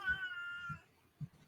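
A single drawn-out cat meow sounds clearly and fairly close at the start, followed by a few soft low thumps in a quiet setting.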